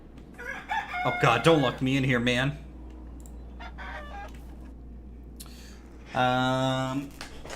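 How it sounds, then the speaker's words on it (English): Chickens in the Medieval Dynasty video game give loud clucks early on, and a rooster crows clearly near the end. Someone speaks briefly between the bird calls. "Let's see if we have any baby chickens yet"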